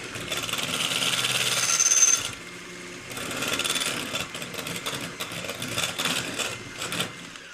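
Kitchen mixer whirling keto pumpkin pancake batter, a loud close buzzing whir in short bursts with a brief drop in pitch and level between runs, no talking.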